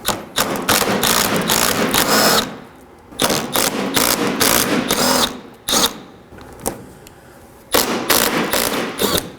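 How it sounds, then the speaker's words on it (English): Bursts of a power tool spinning off 10mm bolts from a 2013-2019 Nissan Sentra bumper, loud rattling runs of a few seconds each separated by short pauses, with an occasional thump. "You'll find three 10mm bolts. I'm going to remove these."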